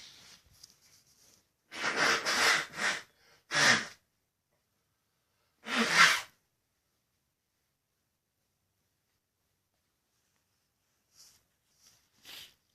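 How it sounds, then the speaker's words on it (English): Several short, forceful nasal blasts into a tissue, a burst of three or four followed by another, then faint sniffs near the end. "hold on, I gotta blow my nose again"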